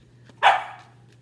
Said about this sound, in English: Uh-oh, puppies are playing